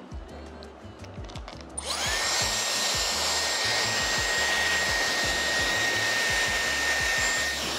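A Dyson Airwrap hair styler switches on at maximum heat and power after a few soft clicks, then holds a loud, steady whooshing blow with a high whine, while faint thuds sound underneath.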